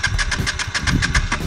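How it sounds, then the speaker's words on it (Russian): A Honda Shadow VT400s motorcycle cranks without catching, its starter producing a rapid, even run of close, loud mechanical pulses with no engine firing. "мотоцикл не заводится"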